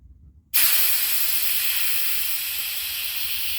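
A sudden loud hiss of CO2 gas venting from an Umarex HDR 68 revolver during degassing, beginning abruptly after a quiet moment and holding steady and close for several seconds.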